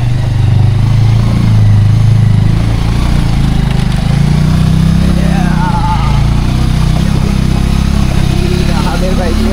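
A motorcycle engine hums steadily and loudly throughout while being ridden off-road through rural Sylhet.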